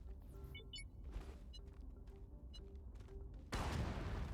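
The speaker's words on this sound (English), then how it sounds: "It's not as big of an explosion as I would like, but it's something." A blast in the space-exploration game Astroneer goes off near the end as a sudden loud broadband burst, following a stretch of faint game ambience with small chirps and clicks.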